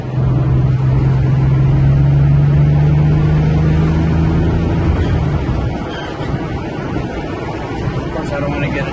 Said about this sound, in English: The engine pulls really good.